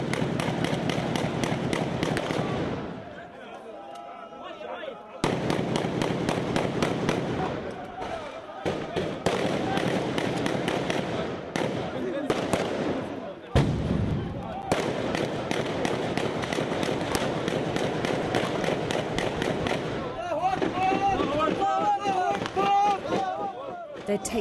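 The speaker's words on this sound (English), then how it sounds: "Then, taking it in turns, they fire one by one inside the house." Gunfire in the streets of Misrata as troops shoot one by one into a house, with sharp cracks and bursts of shots in rapid, uneven clusters, loud and close, and brief quieter gaps between volleys, while someone speaks over it.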